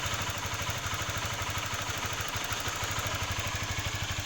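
Honda CB150R motorcycle idling with its cooling fan running, a steady rapid engine chug with light mechanical clatter, close up and continuous with no talking.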